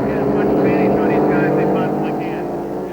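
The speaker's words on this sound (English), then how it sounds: "These 6-cylinder engine-powered boats, they will put on some kind of a show" Six-cylinder modified race boats at Dayton roar past in a loud, continuous engine whine with shifting pitch, a dense motor sound that fades slightly at the end.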